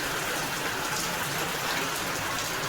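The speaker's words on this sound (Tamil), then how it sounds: "எவ்வளோ சூப்பராக மழை பெஞ்சிட்ருக்குன்னு பார்த்தீங்களா" Heavy rain pouring down, a dense, even hiss of falling water, close and steady throughout with no voices.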